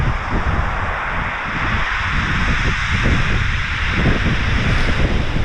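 Steady wind roars across the shingle of Chesil Beach at Ferrybridge, a continuous buffeting rush with gusty swells and no voices.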